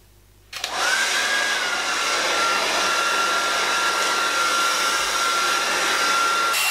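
A handheld hair dryer switches on after a brief quiet moment and blows steadily and loudly while hair is being blow-dried, a continuous close whoosh with a faint whine and no talking.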